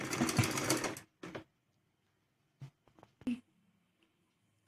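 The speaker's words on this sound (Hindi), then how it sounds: "अब प्लेटों का डायरेक्शन हमें अपनी तरफ करना है और फिर पार्ट को खाली सिलना है।" A sewing machine stitching salwar fabric for a butterfly-design salwar, running in a loud, close burst at first and then in short, separate spurts with quiet pauses between them.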